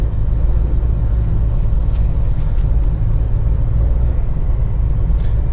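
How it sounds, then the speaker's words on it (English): A 2012 Chevrolet Camaro ZL1 with an aftermarket exhaust rumbles at a steady, loud, deep idle, with low engine throb continuous and close, no speech over it. "it has an aftermarket exhaust"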